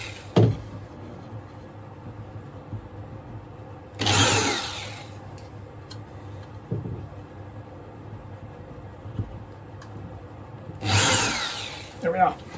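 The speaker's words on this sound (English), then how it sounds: "And the drill comes in, and these are just little pilot holes." Power drill boring small pilot holes for screws during model railway work, two short whirring bursts of about a second each, close by, with quiet talk between them.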